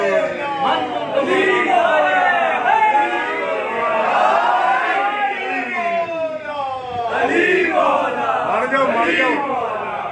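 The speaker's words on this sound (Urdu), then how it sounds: "جب تک آپ بہترین نعرے نہیں لگائیں گے" A crowd at an Eid Ghadeer religious gathering chants slogans in loud, sustained, overlapping voices that swell and continue for about ten seconds without a break.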